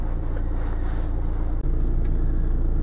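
A car engine idles close by with a steady low rumble. A brief dropout interrupts the drone partway through, and no one speaks.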